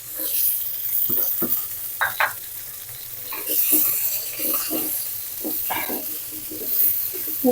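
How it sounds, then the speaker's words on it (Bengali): Shing catfish and dried fish frying in hot oil in a pan, a steady sizzle with scattered pops and bursts of stirring, fairly close and with no talk. "এখানে শিং মাছ আর সুরসুটকি এগুলো একটু বেজে নিব"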